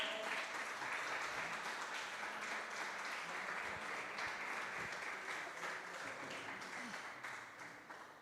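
A crowd applauds steadily with dense, continuous clapping that holds for several seconds and slowly tapers toward the end.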